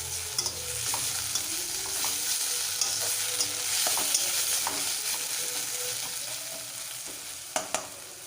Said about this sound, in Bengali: আবারও কিছুক্ষণ আদা রসুনটা পেঁয়াজের সঙ্গে একটু কষিয়ে নেব